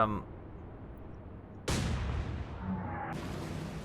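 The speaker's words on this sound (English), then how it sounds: "Might as well deck gun the one right in front of us" A submarine deck gun fires in Atlantic Fleet: one sharp, loud boom with a long rumbling decay, followed by a second burst near the end, while a voice speaks faintly underneath.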